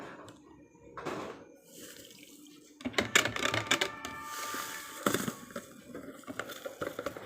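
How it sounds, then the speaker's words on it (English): Lye is poured into water and stirred for homemade soap, giving splashing, sloshing and clinks of a container, irregular and close, with quieter pauses between bursts. "So you add the lye into the water and you stir that up."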